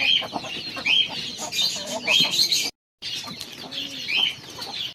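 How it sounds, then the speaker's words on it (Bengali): Fayoumi chickens on a small farm, mostly hens with a couple of roosters, cluck and chatter continuously nearby, with high squawks and some wing flapping and a short silent dropout midway. "এই হলো আমার ফার্মি মুরগি।"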